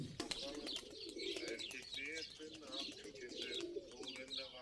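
Pigeons cooing nearby in repeated soft, throaty phrases, with a few chirps mixed in and people's voices faintly present.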